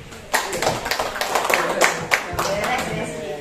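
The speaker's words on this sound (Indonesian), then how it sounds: "Tepuk tangan dulu Bapak Ibu sekalian." An audience claps at a community gathering in Indonesia, a dense, steady round of applause that starts suddenly and carries on, with a voice talking over it.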